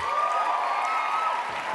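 An audience at a CGI U 2013 panel on girls and women applauds the panelist Shabana Basij-Rasikh, a steady wash of clapping from a crowd at moderate volume that holds evenly throughout.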